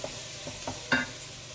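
Onions frying in a pan, a close sizzle broken by a few quick scraping stirs, the last one the loudest.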